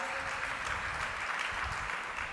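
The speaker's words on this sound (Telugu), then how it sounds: "చప్పట్లు కొట్టి గట్టిగా దేవుని స్తుతిద్దాం" Church congregation clapping together in praise, a dense continuous wash of applause from many hands in a hall, steady and moderately loud with faint voices mixed in.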